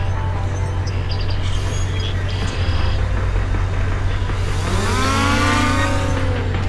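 A drone's motors spin up outdoors near a car by a lake, a rising whine sweeping upward over a steady low hum in the second half, following a few faint clicks.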